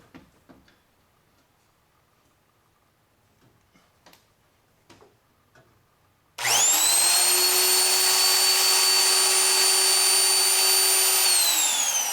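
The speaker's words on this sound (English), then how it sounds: "this drill bit's not sharp enough" Faint ticks and taps, then an electric drill with a dull bit starts up abruptly and whines loudly and steadily until the end.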